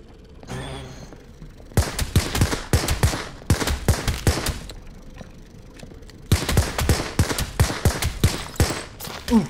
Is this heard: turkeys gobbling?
no